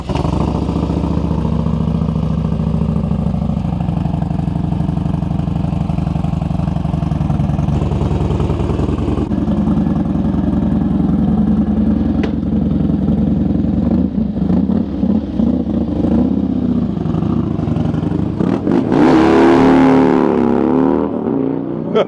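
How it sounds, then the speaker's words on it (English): A Harley-Davidson Dyna motorcycle engine rumbles loudly and steadily while warming up, then is revved hard near the end in a sharp rising burst, close and without speech. "now that the motorcycle is properly warmed up, we can get the oil change"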